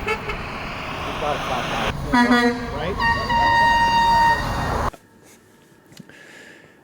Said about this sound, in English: just lay on the horn right when they're driving by the picket line